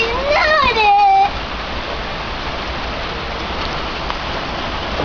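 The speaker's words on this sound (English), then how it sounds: "now it's really coming down" Cold summer rain pours down in a steady loud hiss, with a brief high-pitched squeal of a voice over it at the start, then the downpour continues alone.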